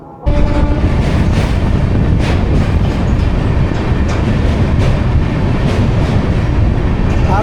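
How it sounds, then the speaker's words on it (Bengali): Amrit Bharat Express passenger train pulling out of Deen Dayal Upadhyay junction toward Varanasi, heard from inside as a loud, steady rumble with rhythmic wheel clatter on the rails, continuous and unbroken. "দীনদয়াল উপাধ্যায়ে 5 মিনিট হল্ট করার পর আমাদের এই ট্রেন ছেড়ে দিল।"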